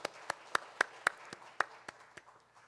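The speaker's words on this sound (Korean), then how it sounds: "하나님 앞에 영광의 박수 올려드리겠습니다." A church congregation claps in praise during a Sunday worship service, about ten sharp, evenly spaced claps in a slow unified rhythm, fairly quiet and slightly distant, with no talking.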